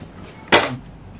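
A freezer door thuds shut once with a short, sharp knock in a home kitchen, close and clear against quiet room tone.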